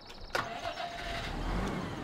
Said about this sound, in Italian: Trattore